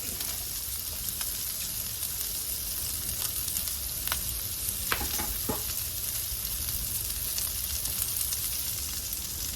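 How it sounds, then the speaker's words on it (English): Half an onion frying in a pan for a Christmas breakfast casserole gives a continuous, even sizzle heard close up, with a few light scrapes of stirring and no talking. "I'm going to add a half onion and get that fried up."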